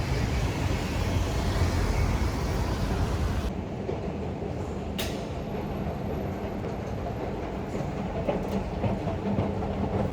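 A Singapore metro train rumbles loudly through an underground station, a steady heavy roar that drops abruptly to a quieter hum, followed by faint clicks and a thin whine as the cars roll on.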